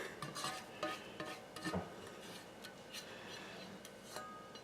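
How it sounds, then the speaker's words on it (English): Ricotta curds scraped out of a cooking pot with a utensil: several short, close scraping and clinking strokes against the metal, uneven in rhythm, with a faint kitchen background. "I'm going to scrape this down so I can get everything out of here"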